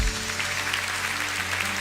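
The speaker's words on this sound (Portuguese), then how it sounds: "Pode aplaudir ao Senhor." Church congregation at a Baptist service in Curitiba applauding, a steady broadband patter of clapping over sustained organ or keyboard tones.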